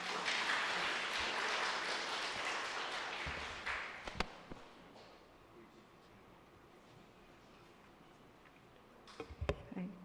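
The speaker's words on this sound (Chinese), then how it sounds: "我们拍手欢迎她来" A church congregation at a Sunday worship service claps to welcome a speaker, a burst of broad applause that fades after a few seconds into quiet room tone, followed by a few knocks and taps.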